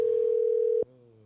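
A telephone call tone plays as a steady, loud pure tone for most of a second and then cuts off abruptly, followed by a quieter, lower voiced sound.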